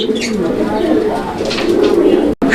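A pair of Lahori pigeons coo steadily in a low, rolling murmur, close by, with a brief dropout near the end.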